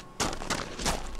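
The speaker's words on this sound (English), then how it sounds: "There's gunshots there." Gunshots from a military faction shooting at a bear in the survival game Outbreak Pandemic Evolution: a few sharp, loud reports in quick succession with a brief pause between.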